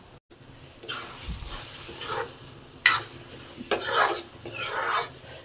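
A spoon scrapes and stirs matar paneer, peas and paneer being lightly roasted in a pan, with a steady sizzle under rough, repeated scraping strokes close by.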